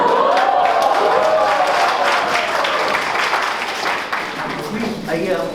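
Applause from an audience at an inter-college homeopathy quiz contest, sustained dense clapping with crowd noise that tapers slightly toward the end, loud and close, with a voice talking over it.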